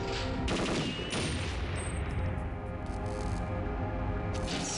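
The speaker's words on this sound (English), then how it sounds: "And now we do the shooty bangs" Rapid automatic gunfire rattles in the PC version of Perfect Dark, with dense overlapping shots and sharp bursts played close and loud with no voices.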